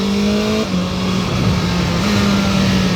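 BMW S1000XR inline-four sport-touring motorcycle engine, a steady loud drone close by with slight pitch shifts as the revs hold and change, no talking.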